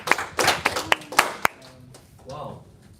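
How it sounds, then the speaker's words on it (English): A small audience breaks into brief clapping, a burst of sharp hand claps that fades out after about a second and a half, followed by a faint voice. "So let's give you a clap."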